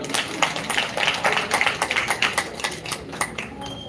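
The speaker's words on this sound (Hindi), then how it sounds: "तालियों से स्वागत" Applause from an audience at a Ram Katha religious gathering at the Sankat Mochan Dham temple in Barra, Kanpur, honouring the temple's head priest: steady dense clapping, close and continuous, with a few faint voices underneath.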